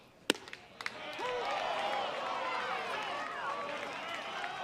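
Baseball crowd reacting at a Wake Forest vs Binghamton game: a couple of sharp cracks and claps, then a swelling, sustained cheer from a large stadium crowd with scattered voices, heard at a distance.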